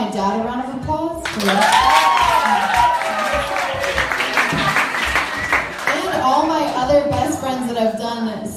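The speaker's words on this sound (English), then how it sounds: "Everyone give my dad a round of applause." A crowd at a live fundraiser concert claps and cheers steadily for several seconds, with voices talking over the applause and a singing or whooping tone rising briefly.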